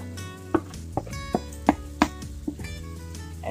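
A spatula knocks and scrapes in a pan while scrambled paneer is mixed into cooked vegetables, giving a handful of light, irregular clacks over a quiet background.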